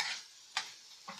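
Apple pieces cooking in caramelized sugar in a pan give a quiet, soft sizzle, with two brief louder stirring scrapes.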